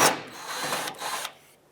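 Brief whir of a tool spinning out a 10mm bolt on the tailgate of a 2003-09 Toyota 4Runner, a short close burst that fades out after about a second.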